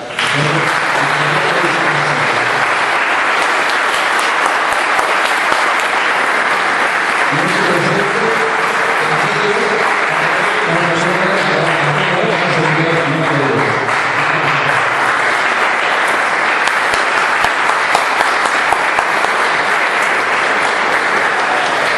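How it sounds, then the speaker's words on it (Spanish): A lecture audience claps steadily and densely for a long stretch, a continuous wash of hands close by, with faint voices murmuring underneath partway through. "Vamos a dar un pequeño aplauso para"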